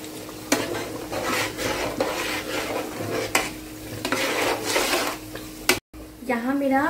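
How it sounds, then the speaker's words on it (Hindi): Onions fry in a pan for biryani while vermicelli is stirred in a second pan, making a steady sizzle with repeated scraping stir strokes and utensil clatter; a voice briefly speaks near the end. "यहाँ बिरयानी के लिए मैं अनियन फ्राई कर रही हूँ"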